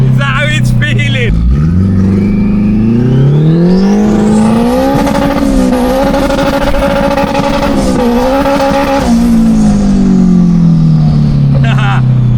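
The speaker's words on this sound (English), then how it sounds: "first person to cry about the noise of the Civic" A Honda Civic's engine revs hard, rising in pitch as it climbs, holding a loud buzzing drone, then easing back down, raw and close with faint background noise.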